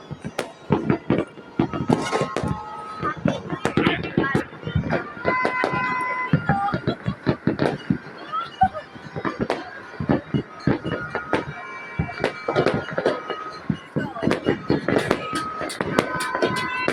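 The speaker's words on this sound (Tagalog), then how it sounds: "Yung fireworks nila parang pang SM na." Fireworks go off above houses in Baguio, a dense run of sharp bangs and crackles that keeps going through the whole span, with whistling streaks mixed in and excited voices talking and cheering underneath.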